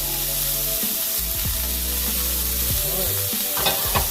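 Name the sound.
meat frying in warm olive oil in a pan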